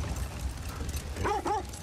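Dogs in God of War Ragnarok give a couple of close, short yipping barks near the end over a low background rumble, with no speech.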